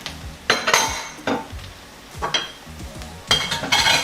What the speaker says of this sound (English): We're going to give this a stir. Just stir this around.